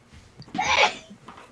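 A single sharp human sneeze close by, with a short intake of breath before the burst and a quiet pause after.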